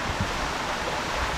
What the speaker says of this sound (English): this is it, Jhor Waterfall.